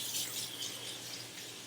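A kitchen tap runs steadily while hands are washed under it, a continuous hiss of water falling into the sink, fairly quiet and even throughout.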